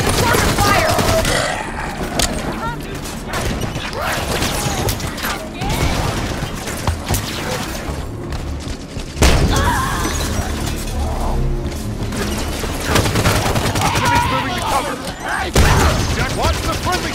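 Rapid automatic gunfire and explosive impacts fill a Halo 5: Guardians firefight, dense and loud throughout with bursts, clanks and shattering hits, while game voices call out over the combat.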